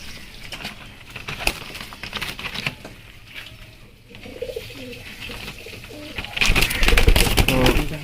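Fancy pigeons of the Royal Teddy kind coo inside a cage while a pair is kept apart, with scattered wing flaps and pattering and a louder burst of flapping and calling toward the end.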